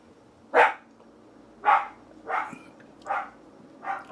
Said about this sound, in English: there's the dog again. Guarding the yard from squirrels or birds or whatever.